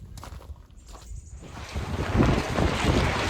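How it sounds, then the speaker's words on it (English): Cold wind gusts outdoors during snowfall, rising into a broad, steady roar with buffeting against the microphone, loud and close, with no talking. "It's gotten cold, it's gotten windy, and it started to snow again."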